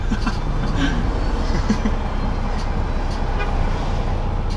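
Car horn honking amid road traffic, a few short toots over a steady engine and road rumble.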